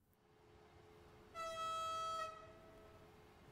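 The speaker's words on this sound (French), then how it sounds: "Écoutez ce joli klaxon" A Vectron electric locomotive in Train Sim World 4 sounds its horn, a single loud, sustained multi-tone blast of about a second rising out of a quiet background hum, then cutting off and leaving a lingering low drone.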